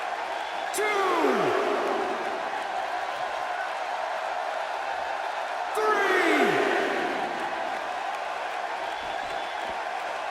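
Arena crowd in the WWE 2K16 wrestling video game roaring steadily, with two swelling cheers rising around the start and again near the middle, dense and continuous throughout.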